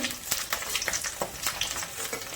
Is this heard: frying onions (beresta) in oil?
yes